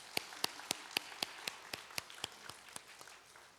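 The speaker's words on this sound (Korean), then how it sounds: "격려의 박수 한번 하겠습니다" A church congregation at a Wednesday evening service gives a round of encouraging applause, heard as regular, evenly spaced claps in a slow rhythm over a faint crowd of other clapping.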